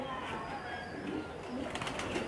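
Pigeons coo softly and continuously in a loft, a steady low murmuring under general ambient noise, with no clear talk over it.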